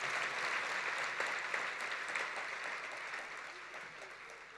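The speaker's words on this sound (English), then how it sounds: "Another warm round of applause" Steady, warm applause from a large crowd at a university welcome ceremony, continuous and even throughout.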